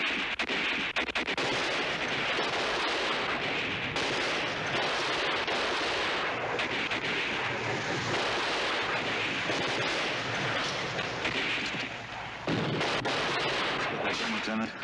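Artillery fire in a Combat! episode from season 4, a dense wall of booming rounds and gunfire rolling on without pause for the whole stretch, loud and continuous, with faint talk mixed into the din.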